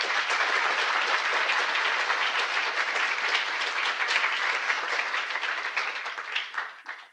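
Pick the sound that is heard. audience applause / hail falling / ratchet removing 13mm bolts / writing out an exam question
audience applause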